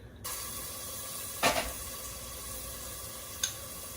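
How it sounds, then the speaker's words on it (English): Minced garlic sautés in hot oil, giving a steady, soft sizzle throughout, with a brief louder burst of frying near the middle and a small crackle toward the end. "we're going to quickly saute this about 30 seconds, no more"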